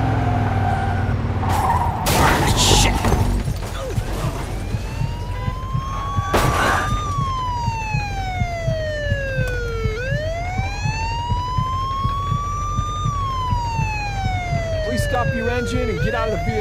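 Wailing police siren during a speeding-car pursuit in Mafia II, its pitch sweeping up and down in long arcs over steady engine rumble, with a few harsh bursts of noise early on.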